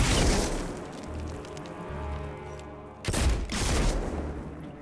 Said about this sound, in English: Explosive rounds, eh?